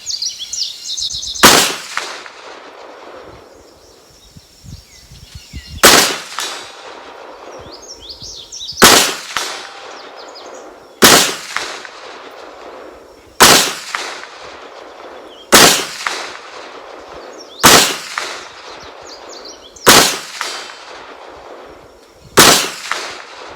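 Kel-Tec PMR 30 .22 pistol fired outdoors: nine sharp, loud gunshots spaced a few seconds apart, each with a short echoing decay, over faint background noise.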